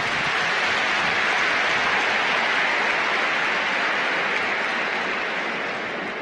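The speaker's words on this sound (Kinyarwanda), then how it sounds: "Twongere tubashimire cyane tubaha amashyi kwayo." An audience claps at the Rwandan presidential swearing-in ceremony: dense, even applause from a large crowd, holding steady for the whole stretch before easing slightly at the end.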